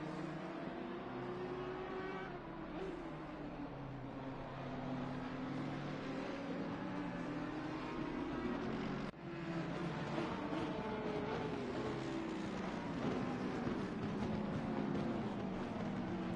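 Racing cars including a 155 Audi and a 39 BMW in a PS5 endurance race, with engines droning and revving steadily at moderate distance, overlapping continuously with pitch shifts as cars accelerate.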